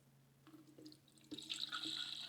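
Liquid pouring into the plastic bottle of a Greenworks foam cannon, soft drips at first, then a steady close gurgling stream that fills out and continues, with no talking.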